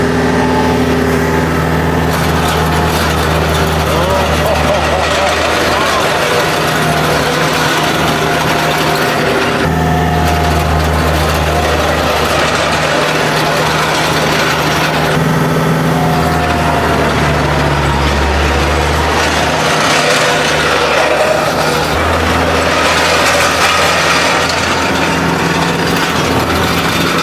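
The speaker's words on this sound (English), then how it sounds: "TR3, John Deere demo tractor" A small John Deere tractor engine runs continuously nearby on a gravel parking lot renovation, a loud buzzing drone that rises and falls in pitch as the load changes.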